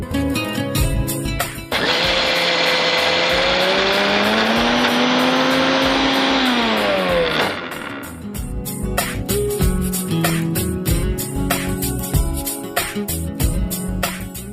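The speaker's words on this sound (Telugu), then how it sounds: "ఫస్ట్ ఒకసారి మనం అలా మిక్సీ పట్టేసి తర్వాత కొద్దిగా వాటర్ యాడ్ చేసుకొని ఒక పేస్ట్లా రెడీ చేసుకోవాలి" Mixer grinder whirring as it grinds spices into a paste, a loud high-pitched motor whine that runs for several seconds, sags in pitch and stops, followed by rattling clatter.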